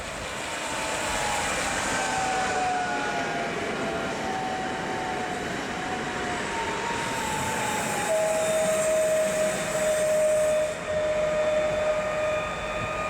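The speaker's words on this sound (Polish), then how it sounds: "zbliża się kolejny pociąg lotniskowy, tym razem koleje mazowieckie do Modlina" A Koleje Mazowieckie airport train bound for Modlin approaches a station on a winter day: a steady, loud rumble of rolling wheels with rising and falling tonal whines from traction motors and brakes, no talk over it.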